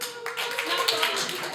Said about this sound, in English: Clap if you have insomnia.